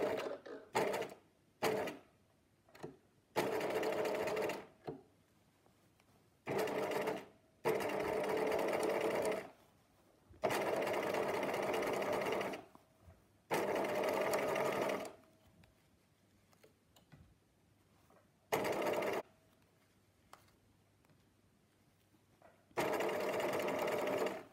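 A sewing machine with a free-motion embroidery foot runs in repeated bursts of steady, close stitching while quilting fabric held taut along a center line, with short pauses between runs and no talk.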